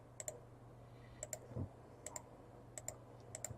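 Computer keyboard keys clicking in small clusters of sharp taps, quiet and close, spaced about every half second to a second in a hushed room.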